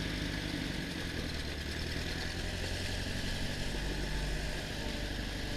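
A Massey Ferguson 50 tractor engine chugs steadily while driving down a driveway, giving a loud, close, continuous rumble with constant throb and no talking.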